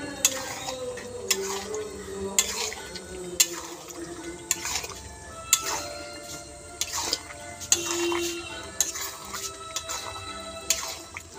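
Chicken curry is stirred in a pot, with wet, scraping spoon strokes repeating about every second over a low bubbling bed, close and moderately loud, with faint tonal background sound.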